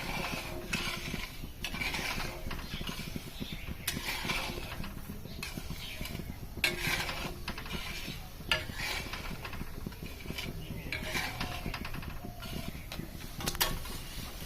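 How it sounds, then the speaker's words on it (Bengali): Spoon scraping and stirring sugar in a pan over a gas flame while making Bangladeshi suji pitha, steady close clinking and scraping with periodic metallic knocks, no voices. "এবার আমি ভালো করে নেড়ে চেড়ে নেবো এরকম করে নেড়ে ছেড়ে নিতে হবে চিনিটা"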